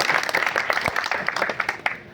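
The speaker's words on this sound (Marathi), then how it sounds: "यांच्या अनुसरणाबद्दल एकदा टाळ्या वाजवा बरं" An audience at a religious gathering at a temple in Bhusawal bursts into applause, a dense patter of many hands clapping at close range that carries steadily for about two seconds.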